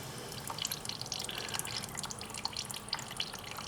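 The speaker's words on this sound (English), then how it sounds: "tuck this hose up high here so it doesn't drip anymore on us." Steady dripping and trickling of rusty coolant from a hose on a Yamaha Banshee, with small irregular drops falling over a continuous wet background, fairly close.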